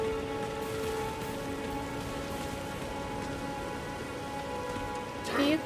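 Steady, dense rainfall in Elden Ring patters on surfaces throughout, a continuous hiss with a faint tonal hum beneath, and a brief brighter swell near the end.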